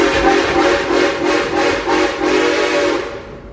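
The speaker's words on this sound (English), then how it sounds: "Ichabod, what you doing stopping my train on here in the middle of Snake Country?" A theme park train at Silver Dollar City runs with its horn sounding in a series of pulsing, whistle-like blasts, loud and close, with no voices.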